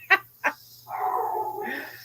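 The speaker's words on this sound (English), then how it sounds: "dogs are barking." Two sharp dog barks ring out in quick succession, followed by a longer whining, howling cry from a dog at moderate distance in a quiet setting.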